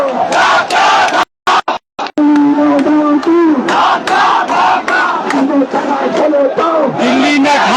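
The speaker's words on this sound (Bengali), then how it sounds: "স্লোগান দিচ্ছেন, স্লোগানে মুখরিত" A large crowd of student protesters in Dhaka chants slogans at night in loud, rhythmic unison, close and dominant, with a brief cut-out early on before the chanting resumes.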